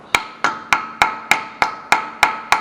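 A hammer taps a T40 bit into a car's rotor screw during a Taurus front hub job: nine sharp, evenly spaced metallic strikes, loud and close, each with a short ringing decay.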